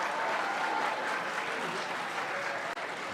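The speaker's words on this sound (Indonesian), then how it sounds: "kita berikan tepuk tangan." Audience applause after a Catholic choir performance at a church music festival in Tambrauw, West Papua, steady moderately loud clapping from a crowd, continuous for about three seconds.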